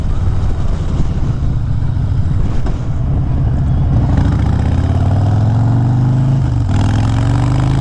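A Harley-Davidson motorcycle engine runs close and loud, a deep steady idle whose low rumble rises in pitch partway through as the throttle is blipped, then settles into a heavier, throbbing run without any talk.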